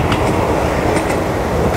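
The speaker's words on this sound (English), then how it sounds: "In fact, there's a train coming soon." A train rumbles past on the railway line between a seaside cottage and the beach near Llwyngwril, a steady, loud, close clattering roar that fills the whole stretch with no voices.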